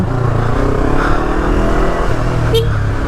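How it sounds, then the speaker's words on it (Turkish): A 1000cc motorcycle revs its engine with a Yamaço exhaust, a loud, steady rumbling roar held close and continuous throughout. "Hele ki şu egzozun tatlılığı beni benden alıyor."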